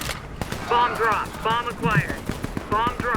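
Rapid bursts of gunfire in the game Warface crackle in quick repeated volleys while a voice talks over them.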